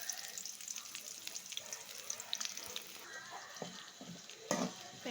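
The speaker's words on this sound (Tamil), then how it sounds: "வெங்காயம் நல்லா வதங்கிட்டுருக்கு." Onions sauté in oil for an egg curry, giving a faint, close crackle and sizzle with small clicks of stirring and a louder clatter near the end.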